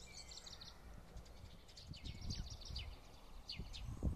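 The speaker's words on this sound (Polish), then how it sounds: "Słychać, jak ptaki szaleją, wiosna się rozkręca." Several birds chirp and trill in spring in quick, overlapping bursts at a distance, faint against a soft outdoor rustle.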